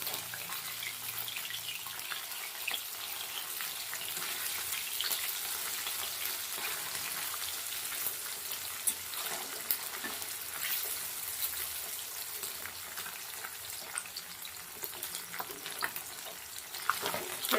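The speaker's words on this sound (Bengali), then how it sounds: "এবার উল্টে দেবো মাছটাকে, উল্টে পাল্টে হালকা লাল লাল করে ভেজে নেব।" Fish frying in a pan and being turned over, a continuous soft hiss of oil sizzling with scattered clicks and scrapes from flipping, fairly quiet and steady throughout, no speech.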